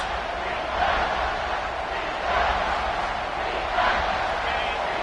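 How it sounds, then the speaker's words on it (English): Football stadium crowd roaring to help the defense near the goal line, a dense sustained din that swells in waves, with a commentator talking over it. "the crowd really making some noise now, trying to help out this defense to get this stop near the goal line"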